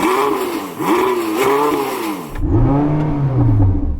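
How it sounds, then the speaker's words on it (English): A Porsche 918 Spyder engine revving repeatedly in short rising and falling bursts, loud and close, followed by a longer lower rev as a second engine takes over. "So I'm going to rev up my Porsche."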